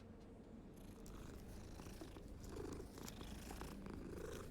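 A cat in the Hogwarts Legacy video game purrs softly and continuously, a low, steady rumbling drone with no voices over it.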